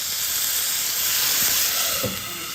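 Water poured into a hot pan bursts into a loud, steady steam hiss lasting about two seconds, then eases off slightly as it settles.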